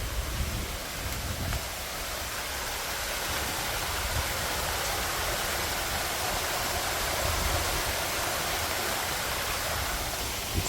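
Storm water gushes down a gully during a tropical storm, a broad continuous roaring rush that holds steady and fairly loud throughout, with no voices.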